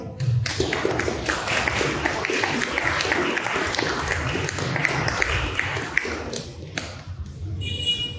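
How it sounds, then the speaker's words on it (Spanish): An audience at a public conversatorio honouring Victoria Santa Cruz Gamarra breaks into dense, sustained applause, many hands clapping together at an even level for about eight seconds. "Aplausos."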